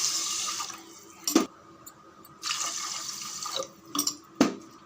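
Water poured from a tumbler into a pressure cooker of washed rice in a home kitchen, two short splashing pours separated by gentle trickling and drips, close and fairly loud, with no talk.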